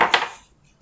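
Short utensil scrape and clatter while stirring powdered seasoning with salt and pepper for roast chicken, a quick clink that fades away within a second.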